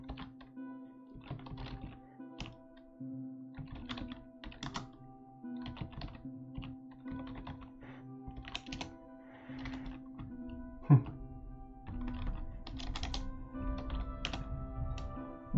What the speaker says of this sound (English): it still is quite a lot of typing work